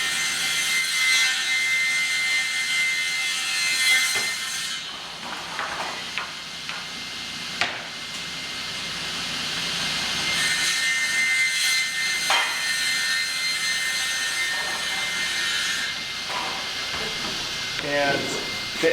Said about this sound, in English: we'll bring it in here, and we run it through our planing line